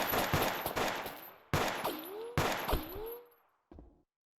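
Gunfire in the space station game Space Station 14: three loud close bursts of rapid shots, each followed by a descending ringing tail, then a short final shot, with no voices.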